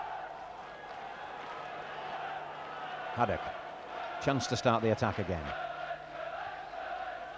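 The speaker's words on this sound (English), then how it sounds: "Now the crowd are responding. They're getting behind United." Crowd at a 1989-90 Leeds United versus Middlesbrough football match, a broad distant roar rising steadily beneath a commentator's voice.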